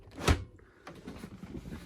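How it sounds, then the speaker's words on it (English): A motorhome fridge door's locking catch is pressed down and the door pulled open, giving one sharp close click and thud followed by quieter handling rattles and faint rustling. "to get in the fridge, there is sort of a locking device here. You put your 2 fingers in, press down"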